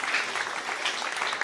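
Audience applause in Paris after a Magnus chess win, a steady wash of clapping from a crowd that is only moderately dense and fairly even throughout.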